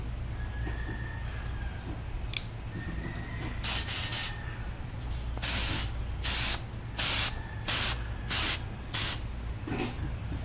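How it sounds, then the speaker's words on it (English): Short bursts of aerosol headlight coating sprayed from a can, about eight hissing blasts of varying length, with gaps between them and a steady low background hum. "And now you just spray on the headlight coating."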